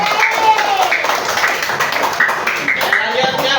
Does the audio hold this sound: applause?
yes